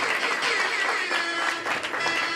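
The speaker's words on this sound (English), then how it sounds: "Clap it up for Chef Wanda Time to Eat." Audience applause from a crowd at a live restaurant-showcase event honoring a chef, steady dense clapping sustained throughout, fairly loud and close, with a faint voice or cheer mixed in.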